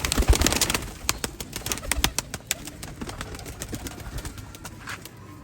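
Pigeons on their stand give soft, repeated cooing, close by, broken up by sharp clicks and brief rustles of movement, with no talking.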